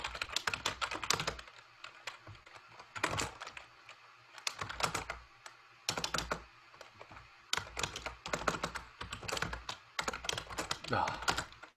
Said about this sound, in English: See, even typing this syntax is hard.